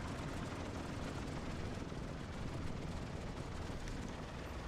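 Douglas DC-3 radial engine in a flight simulator game building up RPM after start: a loud, continuous, broad rumbling roar that holds steady throughout, with no talk.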